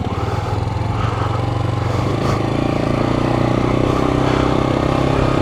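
A Suzuki TU250X motorcycle pulls away in first gear with a steady, close-up engine drone that rises slightly in pitch as it moves off. The engine note fills the whole stretch without a break.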